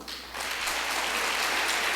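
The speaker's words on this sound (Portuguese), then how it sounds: "Se você quiser, pode até aplaudir." Church congregation applause during a Sunday morning sermon, clapping rising after a quieter start and holding steady and full to the end.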